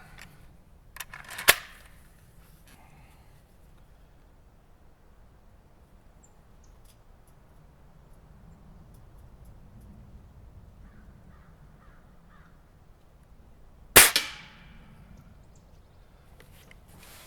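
Two sharp, loud shots from a Springfield Armory M1A air rifle ring out several seconds apart at close range, each a crisp crack with a brief tail, separated by quiet outdoor background.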